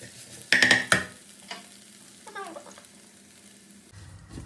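Ground spices such as turmeric, coriander, chili powder and garam masala fry in a hot pan with a sharp burst of sizzling and stirring near the start, then a quieter scrape and crackle that tapers off.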